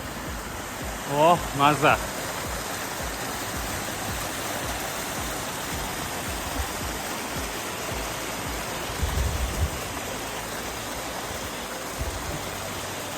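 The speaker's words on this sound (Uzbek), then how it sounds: "Juda ham chiroyli sharsharaga duch keldik mana." A rushing mountain waterfall in the Italian Dolomites roars as a broad, steady wash of noise, close and loud, with a man's brief exclamations early on over the constant pour.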